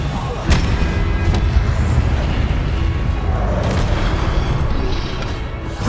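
Booming spell blasts in a Hogwarts wizarding video game hit in quick succession, loud and heavy with rumbling low thuds under a voice shouting spell names.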